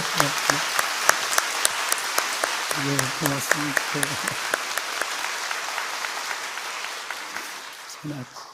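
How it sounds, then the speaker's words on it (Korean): A church congregation at a Sunday worship service claps steadily throughout, with a speaker's voice briefly heard over the applause at the start and again near the end. "용기의 박수 먼저 한번 줄까요?"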